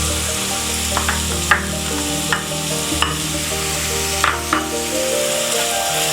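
Cabbage stirred in a frying pan for a chicken omelette, a steady sizzle broken by several sharp scrapes and clacks of the spoon against the pan, close and fairly loud with no talking.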